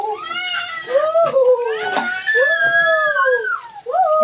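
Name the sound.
child crying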